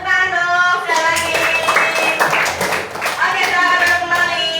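Classroom clapping from children at a school lesson, a steady flurry of hand claps lasting several seconds, fairly loud and close, with voices and some harmonic tones mixed in over it.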